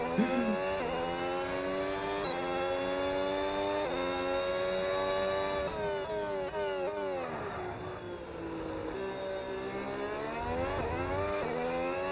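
Formula 1 race car in the F1 26 video game, its engine whining loudly and steadily with repeated rev climbs and sharp downshift drops through gear changes, close and continuous without talk.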